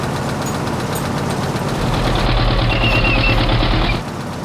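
A WWII-era vehicle engine cranks and catches, settling into a loud, rapid, rhythmic knocking idle that runs for several seconds before dropping off.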